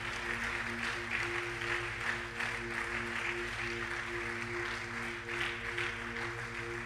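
A church congregation applauds in a steady, dense wash of clapping that runs throughout, moderately loud, with a low hum underneath and no clear speech.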